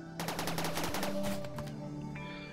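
A suppression cannon in the modded video game RimWorld fires a rapid burst of repeated sharp reports that rattle together for about a second, then taper into lingering tones and faint trailing noise.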